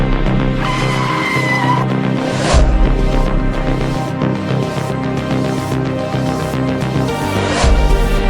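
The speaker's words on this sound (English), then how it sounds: "One car loses control and crashes off the road." A car on a snowy road skids with a long tire squeal over a loud, steady engine roar, then a second burst of skidding follows several seconds later, with no talk.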